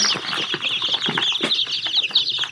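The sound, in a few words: baby chicks peeping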